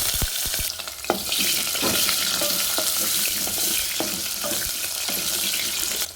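Potatoes fry in hot oil with dried chili and cumin, giving a loud, steady sizzle with a few sharp spits and pops near the start and occasional clinks of stirring.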